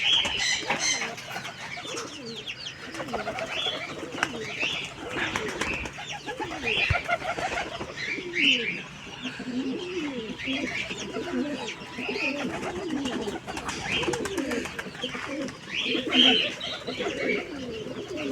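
Breeding pigeons in a loft coo steadily with soft, repeated throaty calls and occasional clucking, moderately close and without talk.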